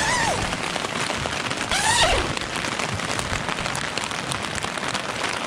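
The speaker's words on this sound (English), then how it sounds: "It's pouring down rain outside." Heavy rain pouring down outside a tent at a lakeside campsite in Porcupine Mountains State Park, a dense, steady hiss of drops on surfaces, with faint bird chirps briefly audible.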